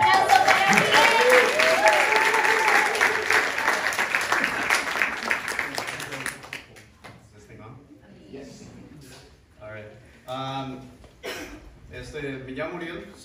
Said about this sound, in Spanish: un aplauso para Uriel